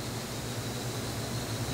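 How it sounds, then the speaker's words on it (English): Constant broadband whoosh of an exhaust fan running steadily in a guitar paint-refinishing workspace, faint and even with no voices. "That's an exhaust fan to suck all the fumes."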